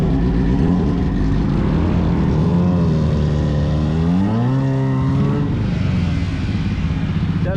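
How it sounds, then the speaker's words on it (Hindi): Superbike engines rev loudly and close, a strong continuous roar whose pitch climbs and falls in sweeping revs, with several machines layered together at a group ride gathering and no talk. "ये बाइक का साउंड सुनाता हूँ मैं आपको, रेव करना।"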